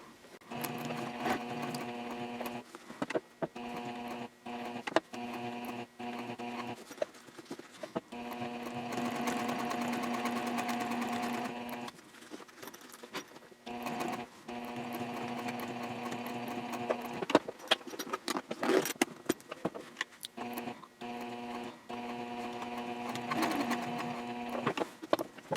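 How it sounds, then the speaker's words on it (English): A sewing machine stitches a sling bag around a curve, its rapid mechanical whir coming in several bursts of a few seconds each, separated by short pauses, fairly close and with no talking. "I'll pivot and start sewing up and around the curve."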